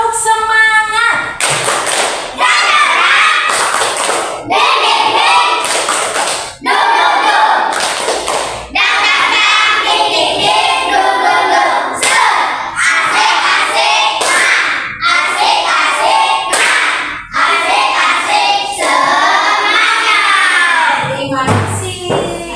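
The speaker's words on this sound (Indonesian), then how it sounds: "Ayo, tepuk semangat" A group of students or teachers performs a 'tepuk semangat' spirit clapping routine, loud rhythmic bursts of clapping and thumping in quick patterned sequences mixed with chanted voices, filling the room.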